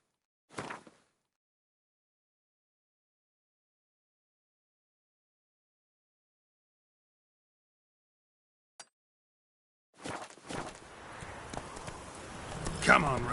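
Hooves of Roach, a horse in The Witcher 3, clip-clop in a brief near burst, then after a long silence build into a steady run of hoofbeats with other noise beneath, growing louder toward the end.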